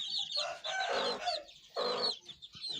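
An Aseel chicken clucking and calling loudly nearby in two bursts, with shorter clucks trailing after.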